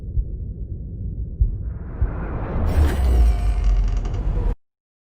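Door creaking in a sound design piece, a low rumbling groan that slowly rises into a brighter, strained creak, ending abruptly.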